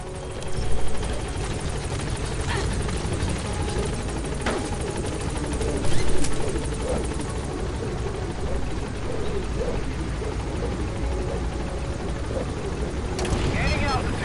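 Pequod helicopter from Metal Gear Solid V: The Phantom Pain, a steady rotor and engine drone held throughout at moderate loudness, with brief louder swells and game effects layered in.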